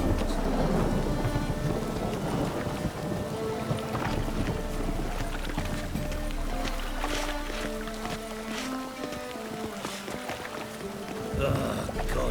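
Steady heavy rain pours throughout a thunderstorm in The Witcher 3 video game, with low rumbling and scattered sharper cracks mixed into a dense, continuous wash of sound.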